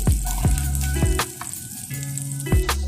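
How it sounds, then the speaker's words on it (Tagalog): Butter melts and sizzles in a pan with a loud, close hiss. Scattered tonal squeaks and knocks sound over the hiss, and no one speaks. "Tutunaw lang muna ako ng butter ngayon guys."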